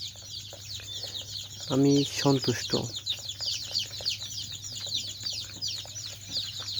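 A large batch of about 300 young desi chicken chicks peeps constantly in dense, high-pitched chirps, while someone speaks briefly over the chatter.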